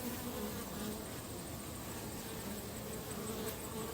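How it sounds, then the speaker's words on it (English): A steady, dense hum of many honeybee drones buzzing as they fly home to the hive in late afternoon, continuous and fairly soft, with individual insects droning past now and then. "so that's all the noise you hear. These big drones are flying home."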